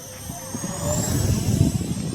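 An RC A-10 Thunderbolt model jet with twin 50 mm electric ducted fans flies overhead, producing a steady high-pitched fan whine over a low rumble that swells slightly over a couple of seconds.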